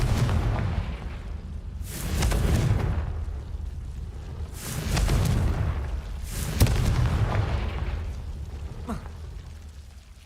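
Blasting Confringo spells go off three times in Hogwarts Legacy gameplay, each a loud booming burst with a rumbling tail, spaced a couple of seconds apart over steady game ambience.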